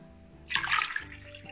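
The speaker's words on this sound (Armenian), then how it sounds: "այժմ ավելացնելու ենք 3 բաժակ ջուր, այս գեղեցիկ հյութը ջրի փոխարեն" Peach juice poured onto sugar for jam syrup gives a short, close splashing gush lasting about half a second, then tapers to a faint trickle.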